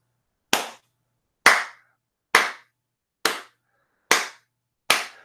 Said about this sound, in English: another tip that I want to give you for clapping in a musical way